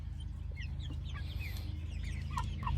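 Several chickens cluck and chirp softly in short bursts over a constant low mechanical hum.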